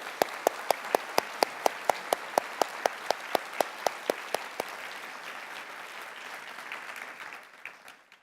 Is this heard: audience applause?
yes